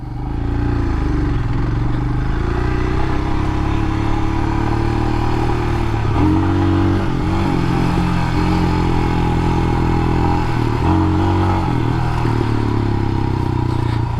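A Royal Enfield Himalayan dual-sport motorcycle rides along dirt trails, its engine a steady loud drone mixed with rattling and scraping from the rough ground and wind, continuous and close throughout.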